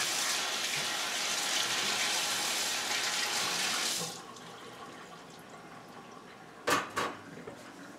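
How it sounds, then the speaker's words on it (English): Kitchen tap runs in a steady close hiss while hands are washed, then cuts off abruptly, followed by a couple of soft knocks and clatters in the quiet room. "Let's wash our hands."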